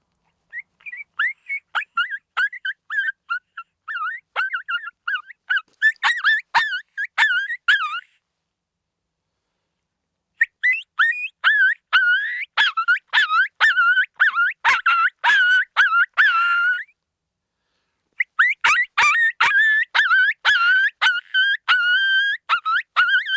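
A coyote distress call blown on an MFK diaphragm howler: loud, close, high wavering yelps and whimpering cries in rapid rhythmic bursts, three long sequences separated by brief pauses, a human-made imitation of an animal in pain.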